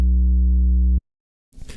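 A synthesized sub bass with tube saturation holds one deep, steady note for about a second and cuts off abruptly. After a short silence, a brief noisy burst follows.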